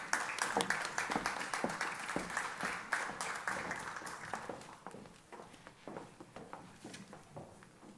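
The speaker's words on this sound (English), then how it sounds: "Please give them a nice round of applause." Audience applauding at a high school FFA awards ceremony, a steady patter of many hands clapping that gradually thins out, heard from within the hall.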